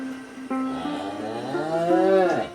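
A Friesian dairy cow moos once, close and loud, in a long drawn-out low call that rises in pitch and then fades.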